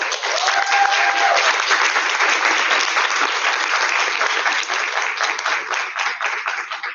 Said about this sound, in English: a round of applause for that awesome presentation that you just had